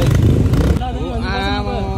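A Bullet motorcycle with no silencer fitted, its engine thudding loud and rough under a voice that dominates the first part, then a steady chugging idle continuing close by with voices and street noise.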